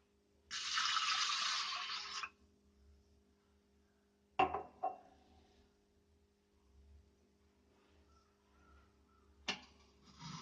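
Water pours from a glass into a pressure cooker of basmati rice in one steady, fairly loud splash lasting under two seconds. A couple of short clatters follow, then a brief rush near the end, with quiet between.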